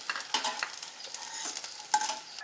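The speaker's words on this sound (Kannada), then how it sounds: "ಈಗ ತುಪ್ಪದಾಗೆ ಫ್ರೈ ಮಾಡ್ಕೋಬೇಕು." Dry fruits frying in ghee in a pan while being stirred, giving a steady crackling sizzle broken by a few sharper scrapes and taps of the spoon.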